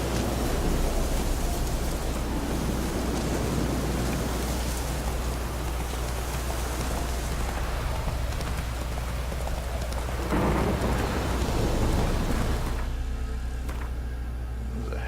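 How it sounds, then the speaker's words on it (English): Video game thunderstorm: heavy, continuous rain hiss with low rolling thunder rumbles swelling near the middle and late portions, loud and close, with no voices. "There's a heck of a storm out right now."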